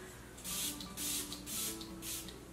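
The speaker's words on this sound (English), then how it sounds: "I'm gonna use my Patrick Ta Dewy Skin Mist." Four quick bursts of Patrick Ta Dewy Skin Mist sprayed onto a face, each short hiss evenly spaced and close, with a faint background hum between sprays.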